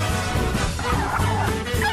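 A turkey gobbles in a Greek satirical comedy sketch, a loud, close burst of rapid warbling calls filling the short stretch.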